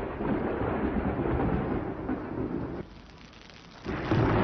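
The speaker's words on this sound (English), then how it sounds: "No, I just don't like thunderstorms." Heavy thunder during a thunderstorm rolls and rumbles loudly and continuously, easing briefly before surging back in a strong close crack-like swell, with a wash of rain-like noise throughout and no voices.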